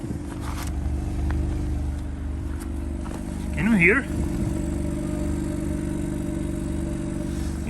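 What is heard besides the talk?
Mercedes A220 AMG engine sporty sound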